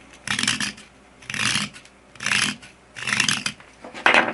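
A knife edge saws through the soft end of a cooked, dried pork rib bone, giving four steady rasping strokes with pauses between them and a final sharper scrape, close up, with no talking.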